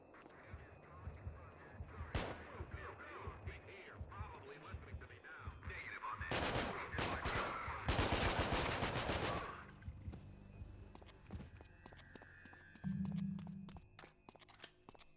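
Gunfire in the PS2 video game Manhunt, a mix of sharp single shots and dense bursts of rapid fire in the middle, loud and near, with game sounds around and a low thump near the end.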